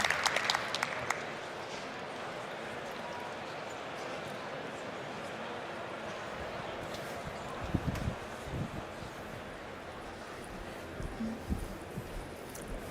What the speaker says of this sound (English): A round of applause for my wonderful guest, Neha Narkhede.